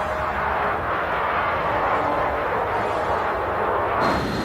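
A V-1 flying bomb's pulse-jet engine drones loudly overhead as a dense, continuous roar with no talk.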